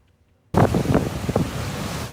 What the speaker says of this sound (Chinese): 强风刮起惊天巨浪，直接冲过防波堤，掀起比人还要高的浪花